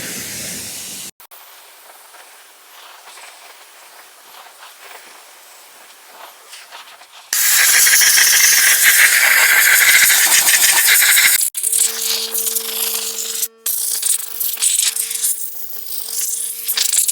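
Water spray rinsing freshly cleaned car wheels and tires, a steady loud hissing blast in the middle with quieter spraying and hiss before and after, alongside a tonal hum toward the end.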